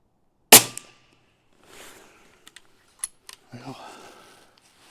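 Pellet air rifle firing at a 25-yard target at 740 feet per second: one sharp, loud crack near the start, then a few faint clicks and mechanical handling sounds afterward, with no talking.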